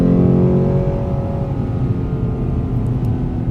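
A Lexus GS F V8 in Sport Plus mode rumbles loudly up close as it downshifts while slowing, its deep engine tone falling and then settling into a steady drone.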